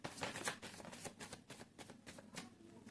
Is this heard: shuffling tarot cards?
yes